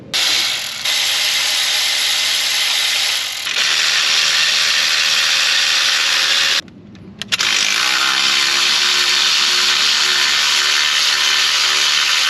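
A fast, continuous buzzing ratchet, likely air-powered, spins out 8mm bolts from a Chrysler/Dodge 6-speed transmission pan, loud and close, running almost nonstop with a few brief dips and one short pause.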